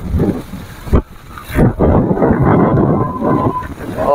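Stormy wind and rain from Cyclone Remal lash a street in Kolkata, a dense, continuous roar of gusts buffeting the microphone with a couple of sharp knocks early on, loud and close throughout.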